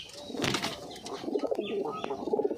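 Pet pigeons, a fantail and native pairs, coo softly and close by in low, rolling phrases, with a brief flutter of wings near the start.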